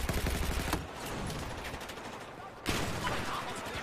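Battlefield 4 gunfire on the Pearl Market map: rapid bursts of shots up close at the start, then a quieter stretch of distant, steady firing, and another loud flurry of shots near the end.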